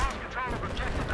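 Rifle fire, likely from a SCAR-H, crackles in Battlefield 4 beneath someone talking, with rapid shots and low rumbling throughout.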